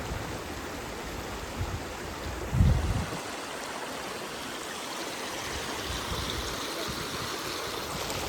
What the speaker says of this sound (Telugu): వాటర్ సౌండ్ అయితే నాకు మ్యూజిక్లా అనిపిస్తుంది అండి మీరు కూడా వినండి